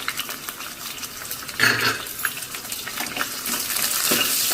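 Curry leaves, biryani (bay) leaves and allspice leaves hit hot oil in a pan for a Rayalaseema mutton head curry, crackling and spitting up close with a louder burst partway through and scraping stirs.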